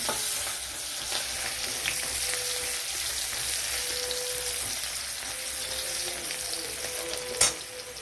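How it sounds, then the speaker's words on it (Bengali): Onion and green chilli frying in oil in a pan, a steady broadband sizzle throughout with occasional stirring scrapes and one sharper clatter near the end, no speech. "এখানে পেঁয়াজ নিয়েছি, পেঁয়াজ অল্প ফোড়ন দেবো।"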